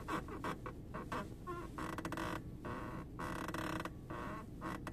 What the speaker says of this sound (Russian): Неприятный, прям неприятный скрип,